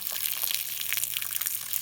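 Water gushes and splatters as it drains out of a seized engine instead of oil, a short, close, steady trickling splash with no talking.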